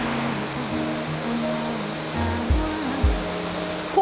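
Shiraito Falls below Mount Fuji pours steadily in the rain, a continuous broad rushing hiss with faint low tones running beneath it.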